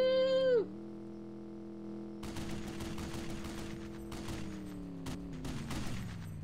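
A machine gun mounted on a military Humvee fires in long bursts of repeated shots, with a steady engine hum underneath. A short tonal cry opens it.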